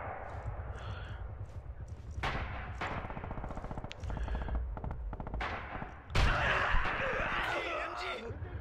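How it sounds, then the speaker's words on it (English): MG42 machine gun in Red Orchestra 2 rattling in long, rapid-fire bursts, steady and fairly loud, with other gunfire and a sharp blast near the end mixed into the battle noise. "It's an MG42."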